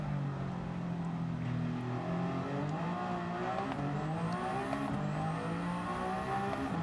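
A race car engine in Gran Turismo 7 drones steadily at high revs around a track, its pitch sliding through gear changes and corner exits, with no talk.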